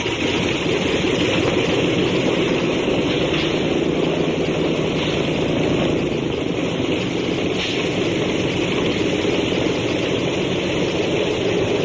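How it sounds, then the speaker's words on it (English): Propeller aircraft engines turn over and run up on a military airfield, a loud continuous droning roar with a low rumble, steady throughout with no voices. "Stand by to start engines. Stand clear propellers."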